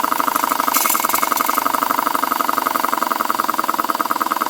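A Boucher S62 model steam engine idles slowly, giving a rapid, steady rhythmic chuffing beat that repeats evenly and close up, with a brief hiss of steam near the start.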